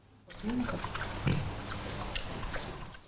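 A piglet raised beside a soldier at a front-line position grunts and snuffles nearby, with a couple of short grunts over a steady low background and faint voices.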